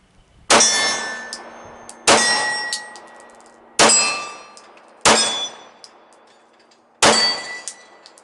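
Five sharp metallic clangs ring out about one to two seconds apart as pistol rounds strike steel targets, each hit loud and decaying in a bright, lingering ring.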